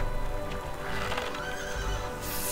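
A horse in the video game Robin Hood whinnies over an ambient game soundscape, with a drawn-out neigh rising in the middle and a steady background bed behind it.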